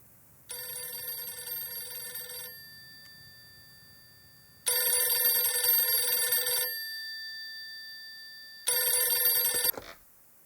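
A telephone bell rings in three loud, steady bursts of about two seconds each, separated by silent pauses, with the last ring cut short, and nothing else heard around it.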